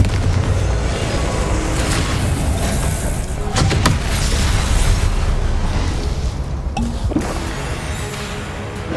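Confringo blasting spell in Hogwarts Legacy, a loud sustained rumbling explosion with sharp crackling bursts near the middle and end, dense and close with no talking.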